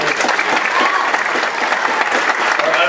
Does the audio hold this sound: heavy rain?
no